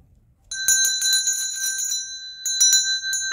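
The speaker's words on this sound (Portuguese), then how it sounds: "Acionar o sininho das notificações" A bright bicycle-style notification bell sound effect rings in quick repeated bursts, a cluster of chimes followed by a brief pause and another short ring, loud and close.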